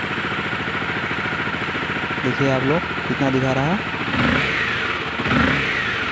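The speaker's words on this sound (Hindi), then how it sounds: "बाइक स्टार्ट हो चुकी है" A Honda CBR 250R motorcycle engine idles steadily at close range, then revs sharply twice, with rising and falling pitch, while someone talks over it.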